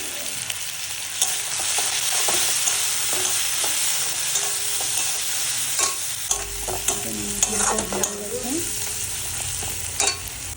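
Ginger garlic paste and chili powder fry and get stirred in a pan, giving a steady close sizzle with scraping clicks from the utensil and no voices.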